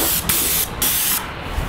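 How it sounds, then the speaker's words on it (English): Paint sprayer applying Benjamin Moore UltraSpec exterior paint on a house, a loud steady hiss in close bursts with short breaks between passes. "So you've been spraying with this UltraSpec from Benjamin Moore."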